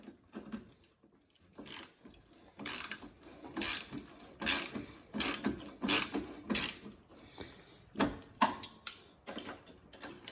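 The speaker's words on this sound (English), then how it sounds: "we just got a ratchet. See if we can get it off with this" Hand ratchet working a bolt loose on the horn bracket of a Toyota 4Runner, close up: bursts of clicking pawl strokes repeat unevenly, with short pauses between pulls and no talking.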